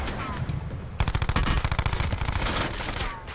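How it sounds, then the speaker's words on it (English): Rapid automatic gunfire in a shooter video game, a burst of quick close shots starting sharply after a second of lighter background noise and rattling on for about two seconds before easing off. "I hit him with some really good shots."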